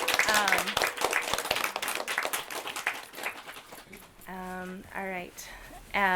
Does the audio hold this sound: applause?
yes